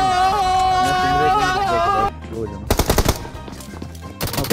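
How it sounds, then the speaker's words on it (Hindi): Bursts of rapid gunfire in the game BGMI crackle in quick volleys, following a stretch of music-like tones and chatter. "गोली चला रहा है।"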